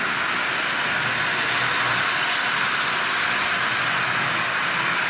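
Steady motor whir and track rumble from a running Lionel 8902 model locomotive converted from DC to AC, constant and close throughout with no voices.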